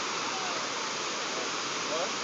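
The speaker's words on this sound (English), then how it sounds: "here are the waterfalls" Gooseberry Falls waterfall rushing outdoors, a steady broadband roar of falling water that stays constant and fairly loud throughout.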